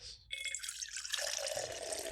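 Coffee pours from a French press in a close, steady liquid stream with a faint trickling splash, starting after a brief quiet moment and continuing to the end without talk.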